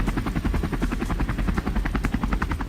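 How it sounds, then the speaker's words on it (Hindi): An Israeli military helicopter preparing for an attack in Gaza, its rotor chopping loudly in a fast, steady thumping rhythm close overhead. "गाजा में इजरायली हेलीकॉप्टर हमले की तैयारी करता नजर आ रहा है"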